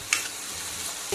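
Semolina is dry-roasted in a pan for upma, giving a soft, steady hiss with a couple of faint scraping stirs.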